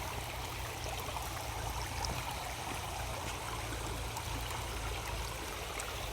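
A stream on a fishing outing rushes over rocks in a constant, even hiss of flowing water, steady and unbroken throughout, with no talking.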